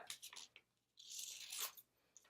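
Scissors cut out a piece of paper in a few short, close snips and crisp rustles, quiet and without talk.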